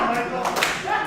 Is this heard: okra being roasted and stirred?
no